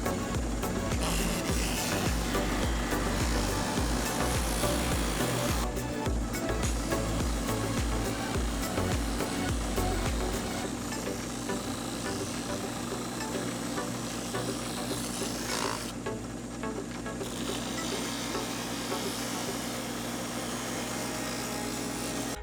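Steady abrasive sanding on a resin and wood ring, a continuous broadband rasp of a power sander held close and loud throughout, with a slight dip near the end and no talking.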